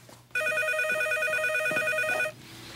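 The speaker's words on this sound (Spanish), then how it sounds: "Conteste el teléfono." A telephone rings in a household, one continuous electronic bell burst of about two seconds, close and clear against a quiet room.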